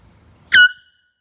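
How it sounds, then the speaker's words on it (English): A single loud, close blast from a small canned air horn, a bright harmonic tone lasting about a quarter second, then a short ringing tail into silence. "Today, testing the air horn,"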